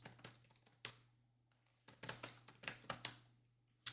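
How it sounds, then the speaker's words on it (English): A computer keyboard types a terminal command for a Linux system: two short bursts of crisp, close key clicks separated by a pause, with no voice over them. "So the way I do it on my system is I type snapper ls"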